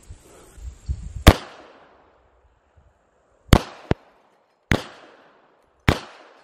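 A Rock Island 1911 A2 TAC Ultra double-stack .45 ACP pistol fires at a television set: five sharp, loud shots spaced irregularly, two of them in quick succession, each with a short ringing decay.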